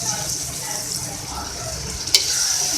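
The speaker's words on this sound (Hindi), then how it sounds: "अब इसके साथ में इसमें ऐड कर लूँगी सोया सॉस" Soy sauce goes into beef keema frying in a pan, giving a steady close sizzle with faint stirring and one sharp splash-like hiss near the end.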